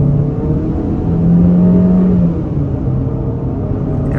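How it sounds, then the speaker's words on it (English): A 2024 Chevy Equinox RS accelerates under throttle, its engine droning steadily from inside the cabin and swelling briefly in the middle before settling back. "taking a step out here, we can open her up a little bit more on the gas"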